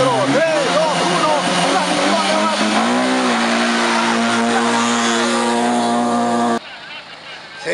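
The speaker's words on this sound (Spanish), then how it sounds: "Tiempo regresivo para la partida de este coche." Rally car at the start line of the Rally de los Andes in Cusco, engine revving hard and rising as it launches, loud and close, with an announcer talking over it before the sound cuts away.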